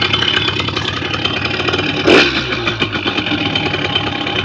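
Close, loud idle of a Simson S51 motorcycle engine with its idle stabiliser on, holding steady revs. The engine runs evenly, with one brief rough surge just past the midpoint and no talking.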